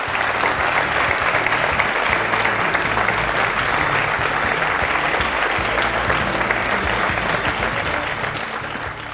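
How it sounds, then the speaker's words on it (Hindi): A large studio audience at a TV talk show claps loudly and continuously to welcome a guest, a thick wash of applause that holds steady and fades slightly at the end. "तालियां बजाकर स्वागत कीजिए डॉक्टर फारूक अब्दुल्ला।"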